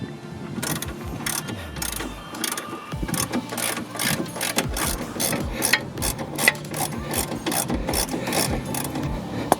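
A ratchet clicks in a steady rapid run while loosening a 17mm bolt on the front suspension of an MX5 during a coilover fit, close and fairly loud, with brief pauses between bursts of pawl ticks.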